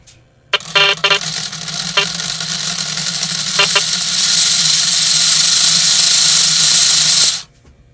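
A Lionel L&N GP-38-2 model diesel locomotive runs under power with a steady motor whir and hiss that builds and holds for several seconds, preceded by a few short clicking taps, then cuts off abruptly.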